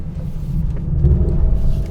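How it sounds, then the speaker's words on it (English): A 2020 Lexus LC 500 coupe in sport mode drops into second gear, giving a short, loud, deep engine rumble and blip heard from inside the car, with no talk. "Put this thing in sport mode for you. Second gear downshift."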